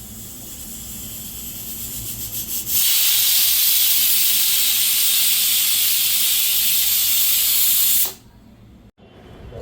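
A pressure cooker cooking pigeon peas lets out a loud, steady whistling hiss of escaping steam that starts abruptly, holds for about five seconds, then cuts off and leaves a quieter background.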